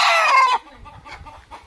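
A village chicken of a new breed gives a loud, close cluck-crow call, then quieter scattered clucks and soft rustling follow.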